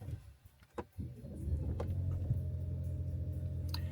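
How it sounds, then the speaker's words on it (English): A 2020 Lincoln MKZ Hybrid's gasoline engine starts after a few soft clicks and a brief whir, then settles into a steady, low idle hum that continues to the end, heard close up from inside the car. "Let me turn the engine on."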